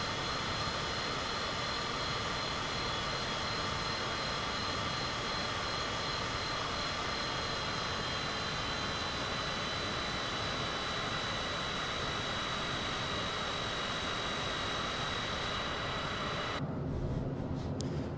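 Cessna Citation CJ4 private jet in flight: a steady, loud broadband roar of jet engine and airflow that holds evenly, then drops off abruptly near the end.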